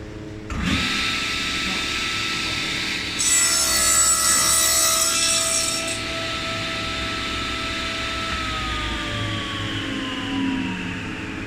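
Table saw blade cutting a dovetail joint in a wooden sushi tray, a steady loud whine and rasp with a harsher burst of cutting in the middle, then the blade winding down.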